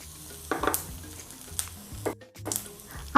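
Mustard seeds, cumin and curry leaves crackle and sizzle in hot oil for a chilli rava idli tempering. Sharp pops break out over a steady hiss, with occasional stirring, close and clear.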